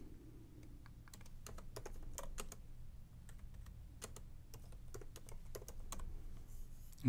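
Keystrokes on a computer keyboard while typing a Docker command, steady irregular clicks at close range throughout with a low background hum, no speech.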